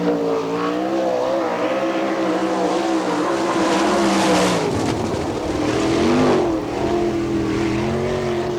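A race car, No. 21 driven by Rodney Morgan, roars through a qualifying lap at an All Star Circuit of Champions event in Findlay, Ohio, its engine loud and sustained, rising and falling in pitch as it passes.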